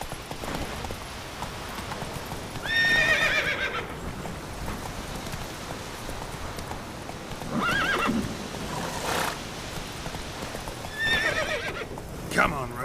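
Roach the horse galloping in The Witcher 3, with steady clip-clop hoofbeats running throughout and several loud neighs and whinnies rising above them, over a soft rain-like patter.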